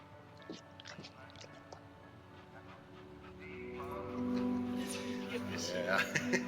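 A dog pants and whimpers in the video game That Dragon, Cancer, with soft breathy panting and small whines under intermittent speech, growing louder and busier toward the end alongside game music tones.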